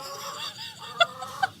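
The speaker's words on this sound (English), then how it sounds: "I've never held a chicken." A hen being held in someone's arms gives two short, close clucks, separated by a brief pause, over a quiet background.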